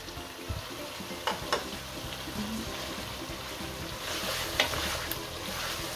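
Lamb meat fries with whole green chillies in a pot, a low steady sizzle broken by a few sharp scrapes and taps of a stirring utensil.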